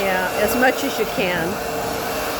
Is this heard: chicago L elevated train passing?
no